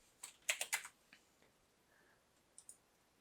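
Computer keyboard typing in a quiet room: a quick cluster of crisp key clicks, then a few scattered taps after a pause, close and fairly soft.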